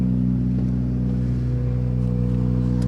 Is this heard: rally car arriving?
yes